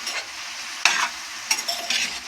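Vegetables frying in a pan while being stirred, a light sizzle broken by several sharp scraping strokes of the spatula at close range.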